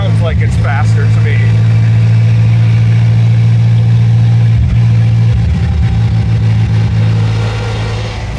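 A 1921 Duesenberg Straight Eight engine runs loud and steady at close range, a deep continuous drone with a strong low hum throughout.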